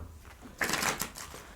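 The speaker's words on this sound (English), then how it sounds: "they don't want to be shuffled." Tarot cards are shuffled close by in one brief, crisp riffling burst that stands out after a quiet moment, then fades to a low hush.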